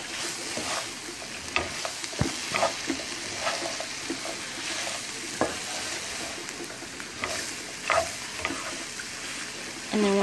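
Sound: stirring frying potatoes and onions in a pan

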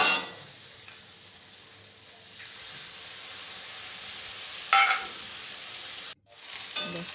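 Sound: water poured into curry and stirred

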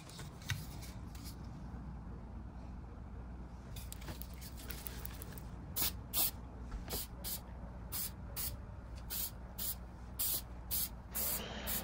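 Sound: spray can spraying shellac

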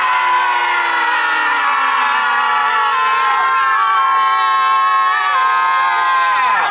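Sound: people outdoors shouting out their frustration

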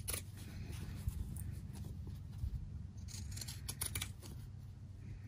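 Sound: trimming quilt fabric with scissors

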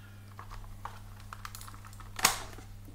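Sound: typing on Atari Portfolio keyboard with angled keys

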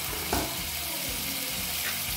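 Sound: ginger frying in hot mustard oil

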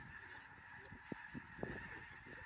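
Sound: snow geese honking in flight

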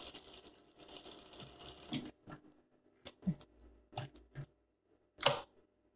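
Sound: sewing machine stitching a hem

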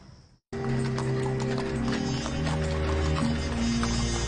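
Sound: horse hooves clip-clopping, pulling a hansom cab

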